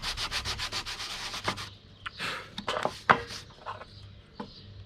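A hand plane works along a wooden boat hull, giving a quick series of rhythmic rasping strokes followed by a few longer, irregular scraping passes, close and without talk.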